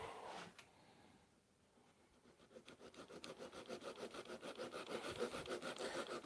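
A small Japanese pull saw cuts wood in a workshop. After a quiet start it settles into quick, even back-and-forth rasping strokes that grow steadily louder and closer over several seconds, with no voices.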